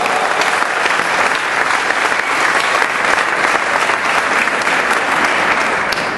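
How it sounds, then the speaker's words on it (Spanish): Loud, sustained audience applause fills a charity solidarity dinner for Pakistan at the Barcelona Maritime Museum, dense steady clapping from a large crowd that carries on without a break. "Aplausos, sisplau."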